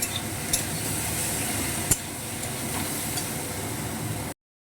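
Chickpeas fry with ginger in a pan, giving a steady close sizzling hiss broken by a couple of sharp scrapes and clinks from stirring, then the sound cuts off abruptly.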